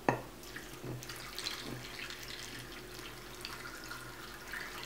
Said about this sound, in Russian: Заливаем рассол в банку.